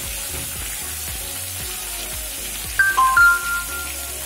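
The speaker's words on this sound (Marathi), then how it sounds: "मिरची छान परतवून देणार आहे मी आणि हा लसूण थोडा लाल करून घेणार आहे" Chillies and garlic fry in a pan, giving off a steady sizzle with soft crackling pops throughout, and a brief metallic clink or stir sounds near the end.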